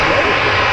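A fixed-wing airplane engine roars loudly and steadily at Manchester Airport, a dense close whoosh filling the short moment, with people talking over it.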